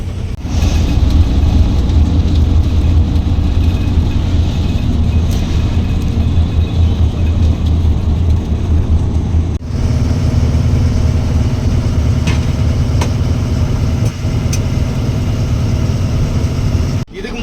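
A loaded lorry hauling a JCB over a long highway run in Maharashtra, its engine droning steadily and loud close by with constant road rumble, a brief dip partway through, no talk.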